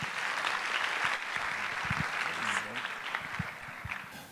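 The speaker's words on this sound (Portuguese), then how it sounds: "Salve de palmas para o Espiga, por favor." Audience applause at a scientific conference session, a steady dense clapping wash lasting the whole stretch, fairly distant and even, with a few louder individual claps and a brief voice murmuring underneath.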